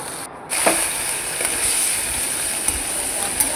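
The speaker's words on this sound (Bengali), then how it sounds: "এবার কড়ার ভিতরে অল্প একটু তেল দিয়ে তার মধ্যে উচ্ছে আর বেগুনটাকে আমি এবারে ভেজে নেব।" Bitter gourd and eggplant frying in a little oil in a kadai, a steady close hiss and sizzle with a few faint knocks and stirring clicks over it.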